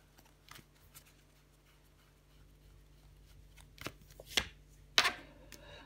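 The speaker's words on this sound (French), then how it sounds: "Je vais recouvrir le 2 d'épée et l'as de pentacle." Tarot cards are laid down and handled on a table, with quiet shuffling, sliding and a few sharp slaps of card on card toward the end against a faint background hum.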